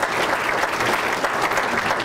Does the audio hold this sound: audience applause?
yes